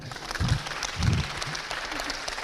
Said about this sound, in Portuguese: você aplaudiu